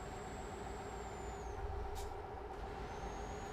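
A truck's air brakes give a short, sharp hiss in Euro Truck Simulator 2, one brief burst over a quiet, steady engine drone.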